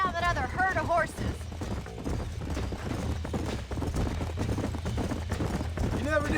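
Horse hooves gallop in Red Dead Redemption, a quick, steady clip-clop rhythm running throughout at close range, with game dialogue spoken over it at the start and near the end.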